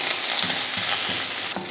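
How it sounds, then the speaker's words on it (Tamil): Curry leaves crisping in hot oil on a low flame, a loud close sizzle with a few short scraping stirs of a spatula in the pan, no speech. "கருவேப்பிலை நல்ல மொறுமொறுப்பாக வரட்டும். அந்த மாதிரி வறுத்துக்கலாம்."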